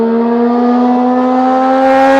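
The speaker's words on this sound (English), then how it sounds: "Look at this motorbike blasting down here." A motorbike with a loud exhaust pipe blasts down a road in North Wales, its steady droning engine tone loud and close throughout, rising slightly as it passes.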